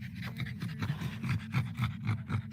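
Two dogs panting outdoors in 99-degree heat by a morning campfire in California, quick rhythmic huffs close by, steady and moderately loud.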